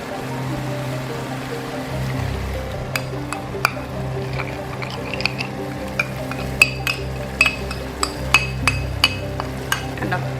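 Hot water is poured into a pot of mutton rogan josh, a gentle stream over a low hum that gives way to scattered clinks of a spoon against metal.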